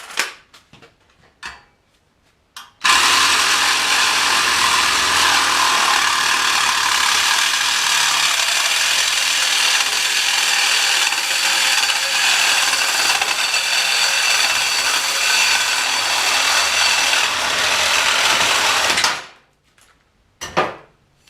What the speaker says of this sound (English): I'll cut a piece up and we'll see how it fits.